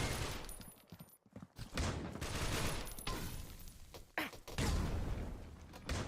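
Gunfire and an incendiary grenade in a tactical shooter video game: bursts of rapid shots and crackling, fiery noise come in several loud clusters separated by brief quiet gaps.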